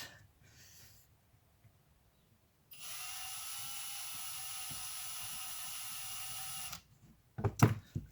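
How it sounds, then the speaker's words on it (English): A power drill whirs at a steady pitch for about four seconds, drilling up from underneath, then stops, followed by some handling clatter nearby. "drill it up from underneath."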